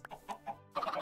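Chickens in the video game Minecraft cluck in a few short, close bursts, followed by a denser run of clucking, with no talk over them.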